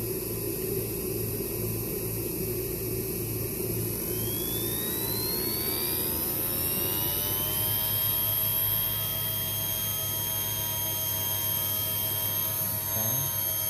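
A JetCat P120 model jet turbine burning kerosene runs loud and steady, its whine climbing in pitch midway as it spools up, then holding a high sustained tone over a constant roar.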